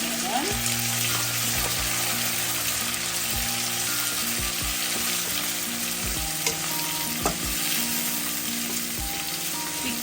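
Chopped tomatoes sauté in a hot pan for a Sri Lankan egg curry, giving a steady, loud sizzle with repeated scraping stirs throughout, close up and with no talking.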